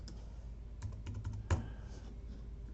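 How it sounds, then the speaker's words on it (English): Quiet taps on a computer keyboard as notes are typed: a short cluster of soft clicks over a low background hum, ending with one firmer keystroke. "type in my additional notes"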